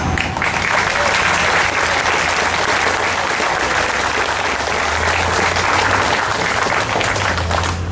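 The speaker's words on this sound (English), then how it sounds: "I think we owe all those district people a round of applause." A crowd at a memorial dedication applauds district staff in a loud, sustained, even round of clapping that fills the space, with a low hum running underneath.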